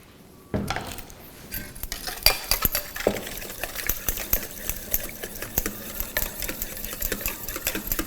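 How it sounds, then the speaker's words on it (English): Milk is whisked into a beaten egg and sugar mixture for tart filling, a rhythmic series of light clinks and scrapes against the bowl after a soft start, close up, with no speech. "I will mix the milk into this beaten egg and sugar mixture"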